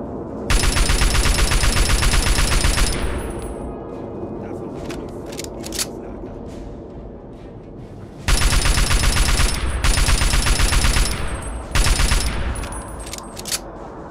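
Rapid bursts of automatic gunfire in Fallout 3, loud and dense, firing in long sustained volleys with a lull between them, then several more bursts.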